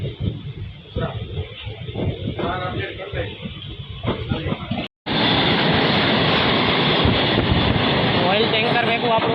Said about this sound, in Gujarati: ઓઇલ ટેન્કર ભેગું આપણું ક્રોસિંગ થાય છે ફૂલ સ્પીડમાં.